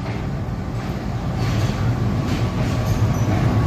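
A train pulls into platform 2 at Rajshahi railway station, a steady low rumble and rolling rattle that holds loud and continuous, building slightly, with no voices.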